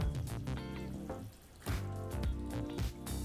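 Boiled potatoes drop into a hot pan of masala gravy for aloo curry, giving a soft, steady sizzle with clattering bumps as pieces land and are stirred, close and fairly quiet.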